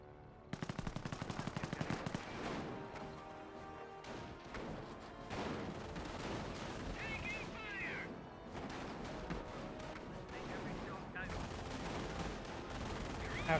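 Half-track machine gun fire in a Company of Heroes battle, with bursts of rapid shots rattling out loudly over a busy wartime soundscape of explosions and clatter.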